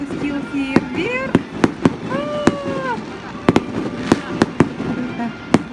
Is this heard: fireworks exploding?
yes